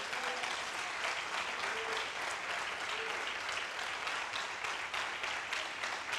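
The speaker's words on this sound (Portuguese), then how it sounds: "Se você acredita em Deus, na palavra, aplauda o Senhor." A church congregation claps steadily, a dense wash of applause filling the room for several seconds, with faint voices beneath.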